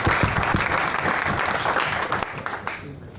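Audience at a sales meeting applauding, a dense, loud sustained clapping that tapers off near the end.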